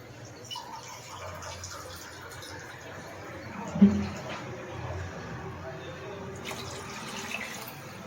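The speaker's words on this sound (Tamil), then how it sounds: "ரெண்டு கிளாஸ் அரிசிக்கு நாலு கிளாஸ் தண்ணி ஊற்றணும்" Water pours into a pot of soaked rice for a biryani at a home stove, a soft continuous trickle and splash with a louder slosh midway, while a person talks over it.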